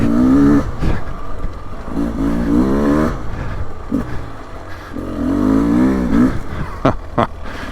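A 2024 Beta 300 Race Edition dual-plug dirt bike revs hard close by, pulling a fourth-gear wheelie on frozen, slick ground, its engine note climbing and dropping in repeated surges.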